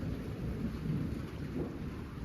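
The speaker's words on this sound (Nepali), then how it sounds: "अहिले चाहिँ पानी पर्दैछ।" Steady rain falls with a deep rumble of thunder beneath it in the mountains near Ghorepani and Poon Hill, heard from a lodge room. The downpour is continuous and moderately loud, and there is no talking.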